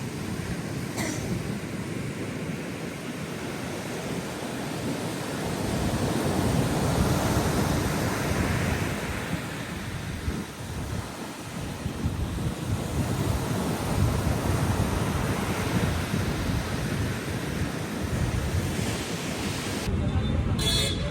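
Sea waves at Madhavpur beach roll in as a steady, loud broadband surf roar with wind buffeting the microphone, continuous throughout with slight swells in intensity.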